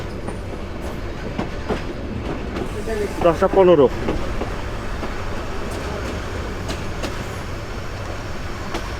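A train at Brahmanbaria railway station in Bangladesh gives a steady, loud rumble and clatter throughout, with a brief louder burst near the middle and people talking over it.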